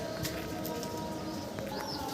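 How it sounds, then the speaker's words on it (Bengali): Fancy pigeons coo softly in a busy farm loft, overlapping calls with a few chirps over a steady background murmur. "হিউজ পরিমাণ ফেন্সি কবুতর আছে"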